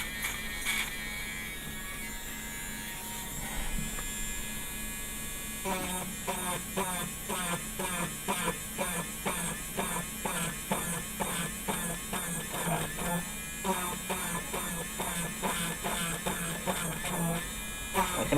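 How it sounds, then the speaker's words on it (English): Dremel rotary tool whirring steadily while cleaning the window openings on a Star Trek Voyager model, with a buzzing drone broken by rhythmic grinding pulses as the bit works, close and continuous. "I can actually feel my Dremel tool getting really hot because I've been using it for so long."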